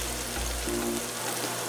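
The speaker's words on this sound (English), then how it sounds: "So we're just gonna let the onion cook until it turns like a brown color" Onion fries in a pan with a soft, steady sizzle and crackle, continuous and fairly quiet, with a faint low hum underneath and no talking.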